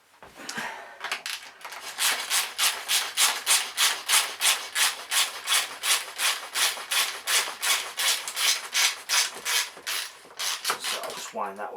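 A bolt being wound out of the DW suspension linkage on a mountain bike, heard as a close, even series of about twenty rasping ratchet strokes, each a rising and fading rub, alone without speech.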